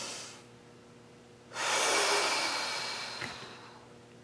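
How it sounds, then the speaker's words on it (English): A slow, deep breath drawn in during a lower-back stretch: a long, airy rush that starts suddenly, holds strongly for a couple of seconds, then slowly fades, close and alone. "I'm going to take a deep breath"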